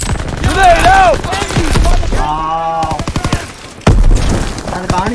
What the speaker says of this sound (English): Okay, ഞാൻ അറിയാതെ വെടി വെച്ചു.